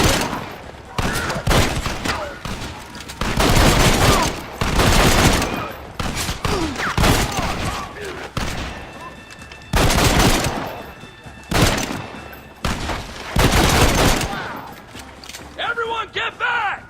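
Loud, sustained gunfire from the Red Dead Redemption video game crackles in repeated heavy bursts separated by short gaps, with shouted voices mixed in amid the battle.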